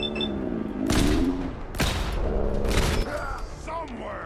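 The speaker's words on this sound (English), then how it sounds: "why are you shooting me?" Gunfire in Fallout 4 comes as a few heavy, booming shots in quick succession, loud and close, with game voices talking throughout.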